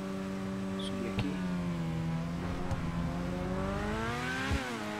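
The engine of a Grotti Bestia GT sports car in GTA V hums smoothly at low speed and rises into a revving tone, close and continuous.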